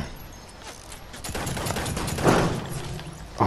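Steady video-game gunfire in a custom game mode, with rapid shots rattling throughout and swelling into louder bursts near the end.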